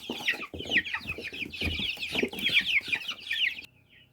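A brood of young winter chicks chirps and clucks continuously at close range, high peeps overlapping with soft lower clucks, then the sound stops abruptly.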